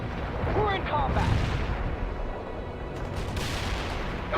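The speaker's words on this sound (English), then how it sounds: "Zulu 9 are firing mortars." Mortar and artillery fire in the war game World in Conflict, a continuous rumbling barrage with dull booms and crackling bursts, brief radio-style voices heard early over the din.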